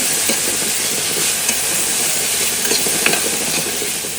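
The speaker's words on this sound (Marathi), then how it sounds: "आता यामध्ये आपल्याला टोमॅटो घालून घ्यायचं आहे. टोमॅटो पण छान परतून घ्यायचं." Tomatoes sautéed in a pan with golden-brown onions give a steady, close sizzle with frequent stirring scrapes and small spatters throughout, and no voices.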